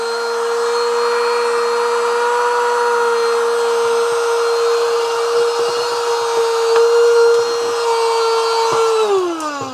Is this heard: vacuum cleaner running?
yes